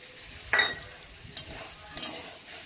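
Jackfruit curry with green chili sizzles quietly in a pan, a low steady fry broken by a few sharp scrapes and clinks of a spatula stirring against the metal.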